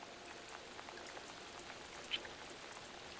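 Steady rain falls in the video game Alan Wake 2, a faint, even patter of drops with one brief brighter splash near the end and no talking.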